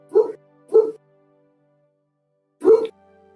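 Dogs barking indoors, three short close yips in quick pairs then a single one after a pause, loud against an otherwise quiet room.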